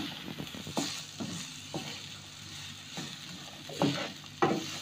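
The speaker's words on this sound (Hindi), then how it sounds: "अब हम इसको अच्छे से मिक्स कर लेंगे।" Peas and carrots are stirred in a frying pan over a soft continuous sizzle, with a few scattered spatula scrapes and taps against the pan, quiet and close, no speech.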